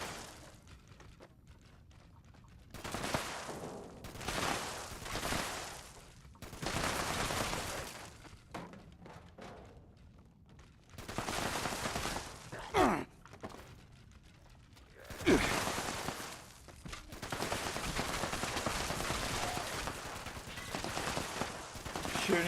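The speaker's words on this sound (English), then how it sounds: "Coming in, guns ablazing." Fallout 76 gameplay gunfire crackles in repeated bursts of rapid shots and fusillades, loud and close, separated by brief lulls and mechanical clatter from weapons.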